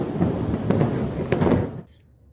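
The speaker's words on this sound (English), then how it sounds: "Also thunderstorms." Thunderstorm ambience from a meditation app: a dense rumble of rain and rolling thunder with a couple of sharp cracks, loud and close, cutting off abruptly near the end.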